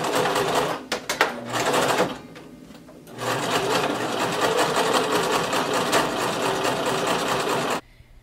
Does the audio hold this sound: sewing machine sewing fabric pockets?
yes